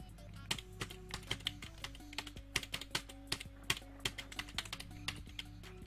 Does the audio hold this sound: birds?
no